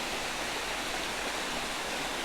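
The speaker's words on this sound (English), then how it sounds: "Now, I'm slowly working my way close to the waterfall" Holden Clough waterfall roars as a steady, dense rush of falling water, close and continuous with no breaks or voices.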